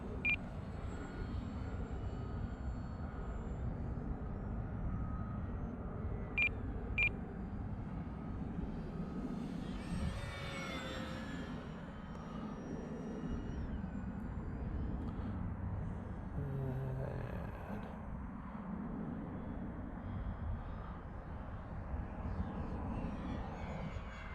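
A Mustang's aircraft engine runs at full throttle, a steady loud drone that holds throughout with a brief swelling pass near the middle and a couple of short beeps early on.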